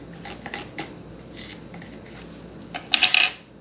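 A spoon scrapes the mud vein from inside a cleaned whole bluegill panfish: light, scattered clicks and scratches up close, building to a brighter, louder burst of scraping near the end.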